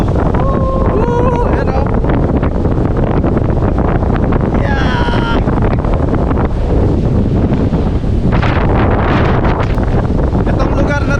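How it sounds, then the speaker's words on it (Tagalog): Strong wind at Oka Beach roars and buffets the microphone in a loud, continuous rush, with brief excited shouts and voices breaking through. "Hindi ko alam kung naririnig nyo ako, pero sobrang lakas ng hangin dito."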